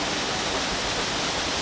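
Catrigg Force waterfall on the Stainforth Loop in the Yorkshire Dales roars as a dense, steady broadband rush, close and loud with no other sounds over it.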